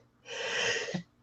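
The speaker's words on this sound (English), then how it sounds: "Oh, I gotta sneeze." One breathy sneeze bursts out close by and indoors, lasting under a second with a hissing rush of air. It comes during a relaxed talk about structuring a business blog. No words are spoken.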